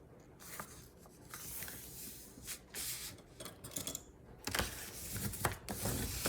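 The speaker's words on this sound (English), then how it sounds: "we're gonna fold it in half again, the other way" Paper rustles and crinkles close by, with sharp scraping creases and soft sliding sounds coming in irregular bursts.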